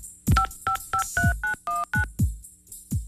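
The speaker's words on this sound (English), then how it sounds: "Pay attention to the number I dial." Someone dials a telephone number on a keypad, and it gives a clear run of nine or ten DTMF beeps at a steady pace. A soft thump from each button press comes with every tone, and nobody speaks.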